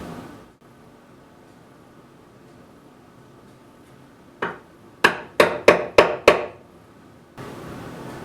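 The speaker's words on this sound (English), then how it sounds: "I'm just scoring the outside dimension right now." A chisel scores a mortise outline in mahogany for a table build, with one soft tap followed by five sharp, evenly spaced mallet strikes, close and loud against a quiet shop hum.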